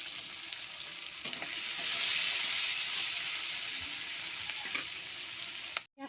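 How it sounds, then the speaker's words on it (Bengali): Chopped onions fry in mustard oil with nigella seeds, a close, steady sizzle that swells in the middle, with a few faint stirring scrapes and a sharp clatter at the very end. "পেঁয়াজটা লাল লাল করে ভেজে নিয়েছি সর্ষের তেলে"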